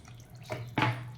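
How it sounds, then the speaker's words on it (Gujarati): Water is poured into a cooking pot of Punjabi dhaba-style chana dal, coming as two brief close splashing bursts about a quarter second apart over a quiet kitchen hum. "હવે આપણે એમાં પાણી એડ કરી દેવાનું."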